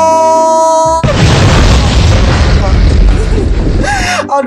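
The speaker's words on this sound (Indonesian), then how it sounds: "Meledak, baru dibilang." A loud, sustained explosion roars in a GTA-style car game, a blast lasting about three seconds that swamps an earlier musical tone before fading into light game sound.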